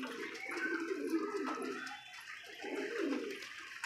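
Pigeons coo in two low throaty bursts, close and fairly faint, with outdoor background noise.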